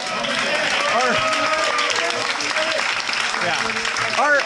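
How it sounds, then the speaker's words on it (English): An audience at a skateboarding event gives a round of applause, steady crowd clapping throughout, with a voice talking over it and brief cheers near the end. "round of applause for Dominic."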